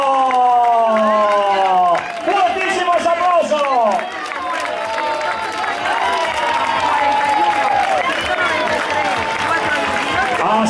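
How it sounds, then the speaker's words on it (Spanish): A crowd claps and cheers for runners arriving at the finish line of a town race, rhythmic clapping and cheering under a loud announcer's voice that talks through the whole stretch. "Vamos a ver esas palmas."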